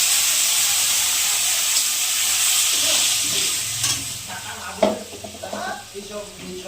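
Ginger, cumin and chilli paste hits hot oil for a bhola fish curry with potato and brinjal, giving a loud, bright steady sizzle that eases off, followed by a few spoon knocks and stirring.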